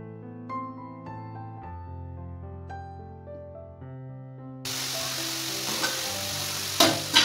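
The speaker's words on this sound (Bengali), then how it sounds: "তেলের মধ্যে ফুলকপি অল্প ভাজা নিব।" Cauliflower frying in hot oil in a wok, a steady close sizzle that swells into a louder, broad crackling hiss partway through, with a few sharp clicks of stirring near the end.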